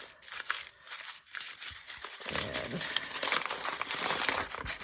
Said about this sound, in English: We're just going to crumple it all up